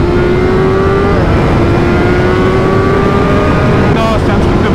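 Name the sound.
BMW M1000R four-cylinder motorcycle engine accelerating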